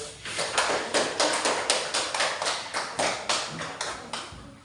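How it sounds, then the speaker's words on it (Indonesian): A class of students applauds a discussion group after its presentation on the meaning of zakat, producing a steady run of close, sharp hand claps in a fairly regular rhythm. "beri tepuk tangan untuk kelompok 1"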